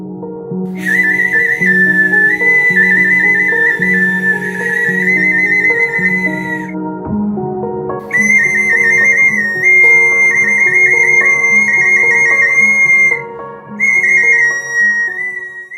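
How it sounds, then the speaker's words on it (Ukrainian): A shrill clay whistle warbles in bird-like trills over a steady tonal background, pausing briefly then continuing in lively chirping phrases. "Свищики співали подібно голосу пташки, шелесту листя."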